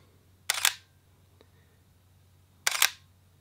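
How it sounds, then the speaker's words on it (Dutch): A Sony A7 mirrorless system camera fires its noticeably loud shutter twice, about two seconds apart, each a crisp close mechanical clack against a quiet room. "En dan hoor je dat dat een zeer luidruchtige sluiter is"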